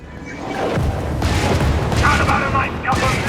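Machine gun fire in the Helldivers video game rattles in a dense, continuous stream of booming shots with a voice mixed in.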